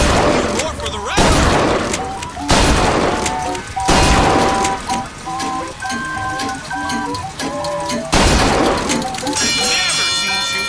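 Bursts of gunfire at a shooting gallery in Bioshock Infinite ring out in several loud volleys, crashing impacts and ringing hits between them over background music, with some in-game voice.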